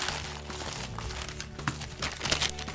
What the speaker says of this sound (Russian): Открываем первую посылочку.